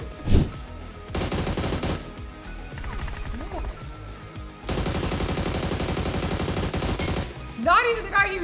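Automatic gunfire in the battle royale game Free Fire rattles in long, dense bursts, loud and close, with a sharp single shot at the start and excited voices talking over the shooting.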